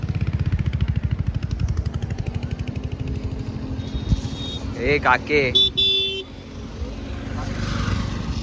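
Vehicle traffic rolls past on a road near Gorai Beach, a steady engine rumble with a louder pass and a short horn-like tone in the middle, heard under a person's speech.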